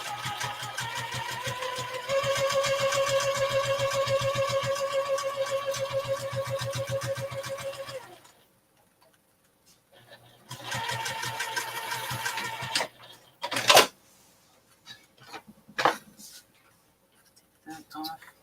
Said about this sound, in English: gonna start top stitching right there.